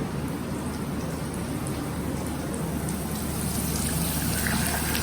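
Milk streams into a pan of corn flour on a low flame, giving a steady, even hiss-like trickle that holds for the whole stretch without pause.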